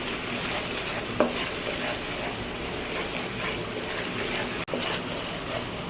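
Ground coriander and other spices for chicken tehari being stir-fried in a pan, a steady close sizzle and frying hiss with scraping of a spoon throughout, plus a sharp clack near the end.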